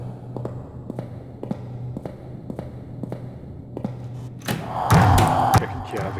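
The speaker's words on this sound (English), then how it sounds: "the characteristic banging of the android" Regular, evenly spaced thuds knock from an android in the video game Uncanny Valley, muffled and moderately distant, until a louder burst of clattering impact noise near the end.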